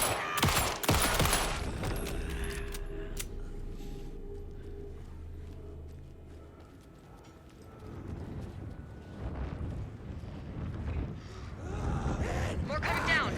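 Gunfire in the video game Alan Wake 2: a dense cluster of sharp shots right at the start, then rumbling game ambience with someone talking over it and more distant bursts later on.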